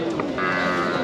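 Native cattle at a large livestock market by a temple, with a short, loud, close low moo lasting about a second.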